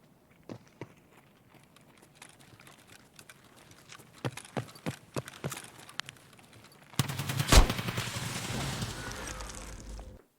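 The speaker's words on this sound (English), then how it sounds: "I only heard one set of footsteps, dude." In the shooter game Escape from Tarkov, a series of sharp footsteps lands at an irregular pace, and a burst of louder gunfire and harsh noise follows near the end.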